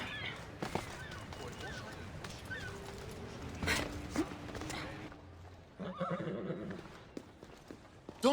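Horse in Assassin's Creed Odyssey, Fate of Atlantis, whinnying with snorts and hoof clops amid ambient game sound, with a voice speaking over parts of it.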